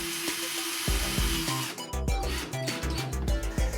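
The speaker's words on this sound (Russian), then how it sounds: "Крепим гипсокартон при помощи шуруповерта и специальных саморезов длиной 15-20 мм." A cordless screwdriver drives special 15–20 mm screws into drywall, its whirring motor rising and stopping in short bursts, close and loud, with knocking and rattling between runs.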